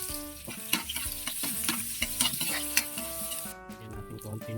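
Chopped onion sautéing in a pan for Filipino adobong pusit, with a steady close sizzle broken by repeated scraping stirs and utensil clinks, then briefly quieter near the end.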